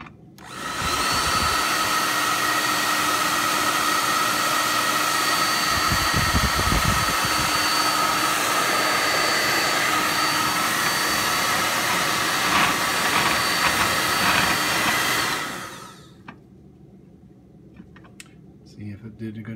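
A heat gun on high heat and high fan blows onto a tamper-evident shrink seal on a honey jar, a loud steady rushing roar for about fifteen seconds before it cuts off.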